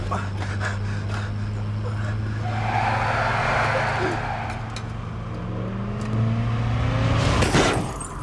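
A car roars and slides with tyres skidding and screeching during a chase in the action film Atomic Blonde, engine noise steady and loud throughout with a sharp burst of impact near the end.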